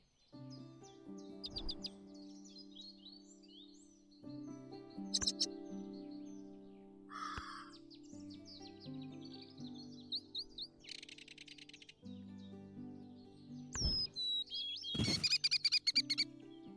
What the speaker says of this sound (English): Chimney swift. These birds have adapted to nest in chimneys instead of hollow trees.